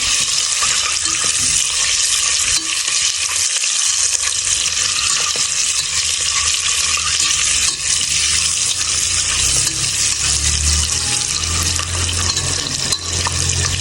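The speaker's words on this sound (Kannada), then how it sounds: "ನೀಟಾಗಿ ಮಸಾಲೆ ಹಿಡಿದು ಫ್ರೈ ಮಾಡ್ಕೊಳ್ಳಿ." Masala for palak egg biryani fries in a pan with a loud, dense, continuous sizzle and hiss throughout, with faint scrapes and a low rumble rising toward the end.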